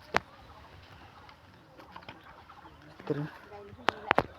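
Faint outdoor ambience with a few sharp clucks from a chicken near the end, standing out over quiet background noise.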